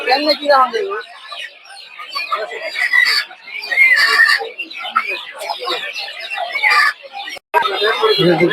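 Chickens cluck busily at a Putia poultry market selling ducks, chickens and quail, with farm chickens and Tiger chicken chicks on offer; dense, close clucking runs throughout under people talking nearby.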